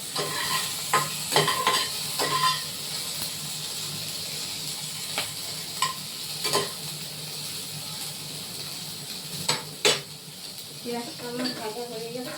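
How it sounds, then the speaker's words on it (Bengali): Onions sizzle steadily in a hot pan for paste, a constant soft frying hiss broken by occasional scrapes and clinks of stirring, with a voice speaking briefly near the end. "পেঁয়াজটা আমার ভাজা হয়ে গেছে"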